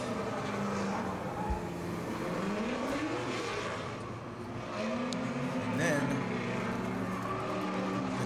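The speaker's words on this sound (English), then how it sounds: "Pablo Cabrera warming up his tires" Drift car warming up its tires at the Hotpit Autofest at Irwindale Speedway, engine revving and wailing through rising and falling pitches with tire squeal, loud and continuous, under a commentator's voice.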